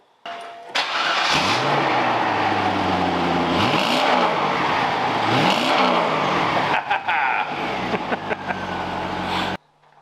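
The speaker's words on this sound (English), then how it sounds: "I don't think we can leave this Corvette sitting in the video the whole time and not start it up" A Corvette engine cranks and catches, then revs up and down several times in loud rising and falling sweeps before idling unevenly and cutting off, close by and alone.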